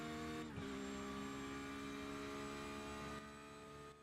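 Porsche GT3 race car engine droning steadily at speed on the Road America circuit in X-SiM Racing, a continuous harmonic whine that dips briefly near the start and fades slightly at the end, with no talk.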